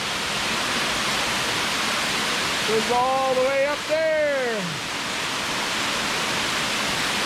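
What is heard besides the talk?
waterfall beside a mountain road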